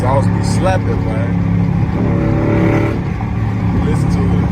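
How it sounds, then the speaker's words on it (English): A Dodge Charger SRT8 with a manual gearbox and a loud aftermarket exhaust accelerates on a highway, its deep engine rumble rising and falling through the revs, heard close from inside the car with the window partly down. "That exhaust be slapping"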